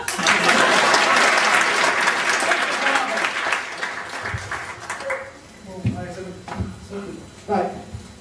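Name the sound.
applause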